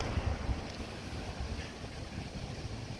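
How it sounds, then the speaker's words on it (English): Strong outdoor wind buffets the microphone in a steady low rumble with gusty swells, loud and close, no voices. "I hope you can hear me over this wind."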